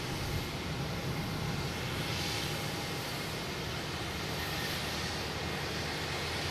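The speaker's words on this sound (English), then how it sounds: "I have Delta coming in from San Antonio." A Delta airliner arriving from San Antonio at Boston Logan Airport, a constant broad jet roar that stays loud and steady throughout, with no talking.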